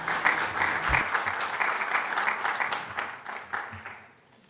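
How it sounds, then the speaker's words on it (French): An audience at an insurance supervisors' panel conference claps for a speaker, a brisk burst of many hands that holds for a few seconds and then tapers off to quiet. "Another round of applause for Mr."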